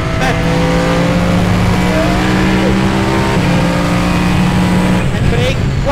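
A very loud car engine roaring while driving on a race track, a constant dense drone with sustained engine tones shifting through gears, filling the whole stretch at close range.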